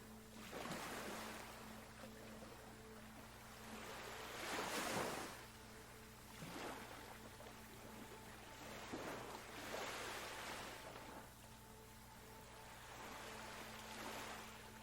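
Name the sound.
gentle ocean waves on a beach shore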